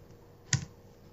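A single light keystroke on a computer keyboard, close and soft, stands alone against a faint background hum.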